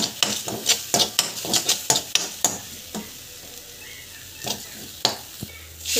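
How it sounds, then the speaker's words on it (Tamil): Turmeric, asafoetida and salt being sautéed in a pan, a run of sharp scraping and stirring strokes with a spoon against the metal over a low sizzle, the strokes thinning out toward the end. "ஸோ பெருங்காயம் ஸோ உப்பு வந்து ஆட் பண்ணிவிட்டு நல்லா வந்து வதக்கிக்கோங்க."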